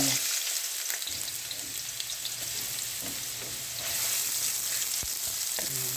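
Ginger sautéing in a pan as the first step of a spicy chicken in coconut milk dish, a steady close sizzle with occasional stirring clinks, no voices.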